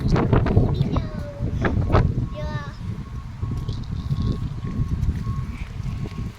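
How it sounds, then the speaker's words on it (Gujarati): Strong evening wind buffets the microphone outdoors on the way to a Hanuman temple, a loud, steady rumbling roar throughout, with faint chirps and a brief voice early on. "આજે પવન બહુ છે."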